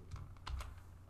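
Brief, quiet tapping of a few computer keyboard keys as Python code is entered, with a low hum behind the light clicks.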